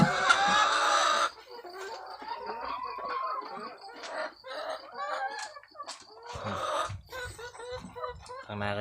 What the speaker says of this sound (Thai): เลี้ยงไก่ครับผม